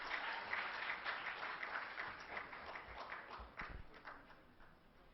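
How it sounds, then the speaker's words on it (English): An audience at a diabetes medical conference in a hall applauds, a sustained wash of many hands clapping at moderate distance that slowly tapers off, with a faint voice or two underneath. "Let's have a round of applause for all of us."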